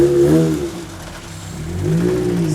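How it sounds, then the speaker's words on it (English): A car engine revs through a PPE exhaust, producing a loud, rough, droning note that rises, dips and climbs again with a raspy, ugly tone, close by with no talking over it. "That PPE exhaust sounds like crap."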